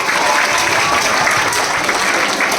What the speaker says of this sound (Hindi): इसका ताली बजाओ, इसके लिए जोरदार ताली